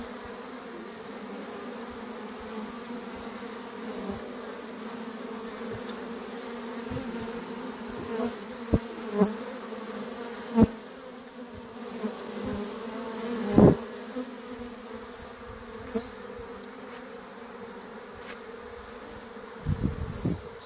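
Honey bees from a strong colony buzz steadily at a hive fitted with a pollen trap, a close continuous drone with occasional louder passes and knocks.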